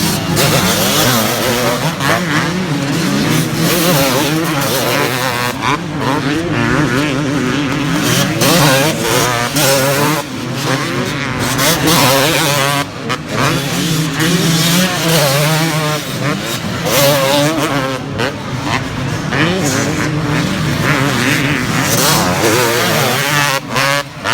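Two-stroke racing motorcycles, including a 500, at a championship race scream past in loud, rising and falling engine howls, with repeated gear changes and revving, close and continuous throughout.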